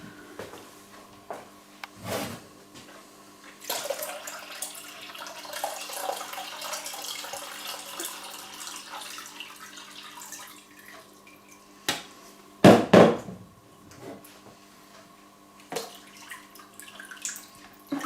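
Tap water runs and splashes into a cooking pot for homemade tofu, a steady low rush broken by clinks and knocks, with one loud clatter partway through; no one speaks.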